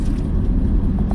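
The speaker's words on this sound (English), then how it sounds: "And this car is not driving safely." A car rolls past on a road in Malawi, giving a steady, close, low rumble of engine and tires for about a second with no talking.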